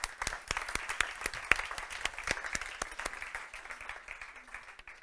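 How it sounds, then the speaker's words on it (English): Sparse applause from a small audience: distinct, separate hand claps at an uneven rhythm, fairly quiet, thinning out toward the end. "let's give them a round of applause"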